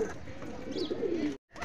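Pigeons coo softly in a low, continuous murmur while cages are being unlocked, with a brief dropout just before the end.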